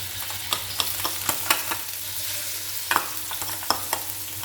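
Oil sizzles steadily in a pan as garlic is stir-fried, with sharp scrapes and taps of a spatula against the metal at irregular intervals.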